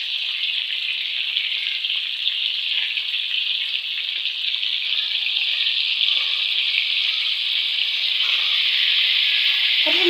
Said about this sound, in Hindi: आधे कप के करीब हम इसमें पानी डाल देंगे, ताकि चिकन जो है वो भी अंदर से अच्छे से गल जाए